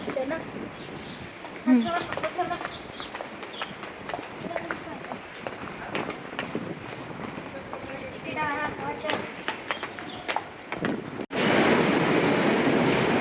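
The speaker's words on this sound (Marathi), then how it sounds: "मी आमच्या रेल्वे स्टेशनवर पोहोचलेलो" Busy railway station ambience with scattered voices and footsteps, then a sudden loud, steady roar of a train close by near the end.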